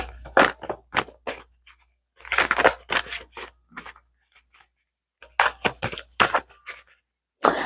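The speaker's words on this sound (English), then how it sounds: "This deck is so difficult to shuffle, as you can probably see." An oracle card deck is shuffled by hand in several bursts of crisp riffling and flapping, separated by short pauses, close and fairly quiet.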